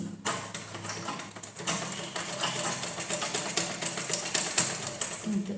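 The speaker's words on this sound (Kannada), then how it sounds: "ನಾನು ಸ್ಟಿಚ್ ಮಾಡ್ತೀನಿ ಇವಾಗ" A sewing machine runs steadily while stitching a blouse, its fast mechanical rattle close and continuous for several seconds after a brief pause at the start, with no talk over it.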